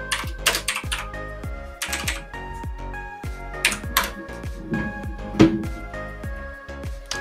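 Close, steady typing on a computer keyboard while editing in Filmora 13, a run of sharp key clicks in uneven bursts with a few heavier strokes, alone with no talk.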